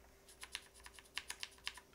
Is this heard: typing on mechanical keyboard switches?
yes